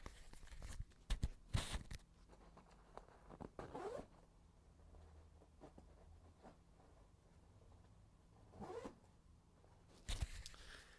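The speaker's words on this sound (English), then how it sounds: "You just zip it up." Metal zip being run along a Czech army bed roll, several quick rasping zips in short bursts near the start, then quieter fumbling and another sharp zip pull toward the end, all close by.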